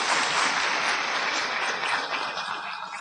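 Dense, loud clapping from an audience at a health lecture fills the whole stretch, steady and close, fading slightly toward the end.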